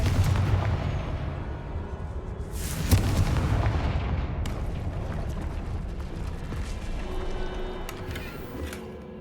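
Confringo explosive spell blast in Hogwarts Legacy, a sharp boom near the middle amid rumbling debris and lingering crackle, moderately loud with no talk.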